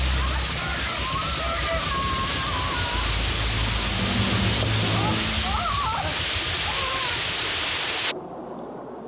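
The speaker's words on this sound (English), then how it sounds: "Where's the water coming from?" Water rushes and floods into a room, a loud, steady hiss and slosh with faint voices buried beneath, cutting off abruptly just before the end.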